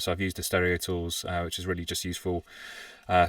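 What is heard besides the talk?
No everyday noise stands out behind the speech.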